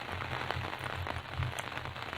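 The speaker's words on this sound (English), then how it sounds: "There's a small silence broken only by the sound of falling rain." Steady falling rain in the video game The Sad Story of Emmeline Burns, an even hiss of drops pattering on a surface, moderately quiet and continuous with no voices.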